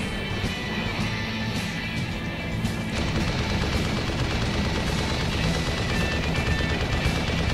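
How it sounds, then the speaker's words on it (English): Sustained gunfire from a tank in Arma 2: Operation Arrowhead, a dense, continuous roar of shots and crashing impacts, loud and steady throughout with no clear pauses. "Just firing like a madman"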